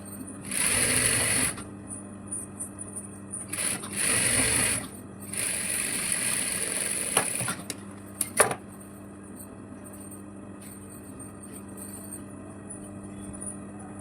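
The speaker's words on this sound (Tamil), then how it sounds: "ஃப்ரண்டையும் பேக்கையும் சேர்த்து வச்சு இப்படி ஸ்டிச் பண்ணணும்" Sewing machine stitching the front and back pieces of an Anarkali churidar sewn from an old saree together, close and loud, with three distinct runs of rapid whirring separated by pauses and a few clicks.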